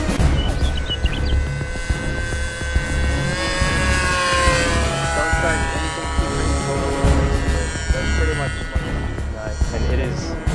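Tower Trainer Low Wing "Broken Arrow" RC model airplane on a test flight, its propeller buzz sweeping up and down in pitch as it passes overhead, steady and fairly loud with a voice talking over it.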